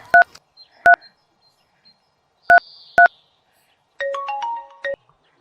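Phone keypad tones beep one at a time as a number is dialed, several short separate presses with gaps, ending in a quicker run of rising and falling tones.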